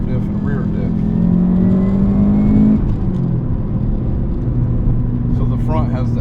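A 2003 Subaru WRX STi with an EJ207 engine and all-wheel drive rumbles steadily as it is driven, its engine note rising through a rev and then settling, loud and close from inside the cabin with someone talking over it.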